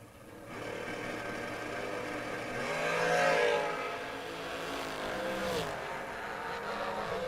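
A dragster and a small Vega line up in a bracket race at a memorial drag strip, their engines droning at a distance and swelling as they rev and pull away, with no talk.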